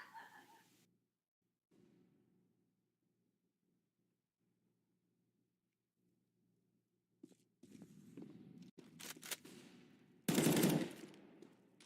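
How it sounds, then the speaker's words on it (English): Gunfire in Counter-Strike during a competitive match, a few sharp shots after a long quiet stretch with soft footsteps, ending in a loud close burst of rapid fire. "Cypher firing off a couple of shots"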